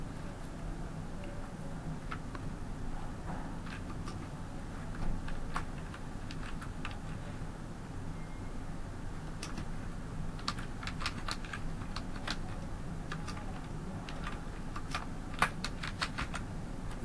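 Computer keyboard keys clicking in quick, uneven bursts of typing, fairly quiet and close, over a low steady room hum with no voices.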